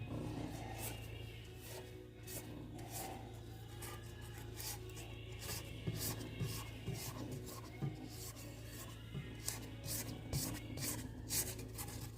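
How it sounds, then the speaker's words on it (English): A spatula or scraper rubs and rasps around a mixing bowl of cream cheese pound cake batter, with a steady low mixer-like hum beneath and repeated short scraping strokes close by; no talking. "got a good scrape down going there"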